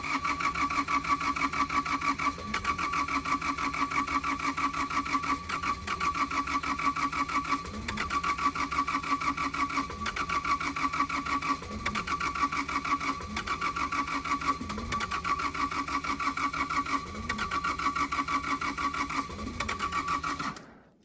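Vehicle engine cranking and failing to start, with white smoke noted, on a mountain road trip around Salta: a steady, loud starter grind with rhythmic pulses roughly every two and a half seconds, never catching, with no talk.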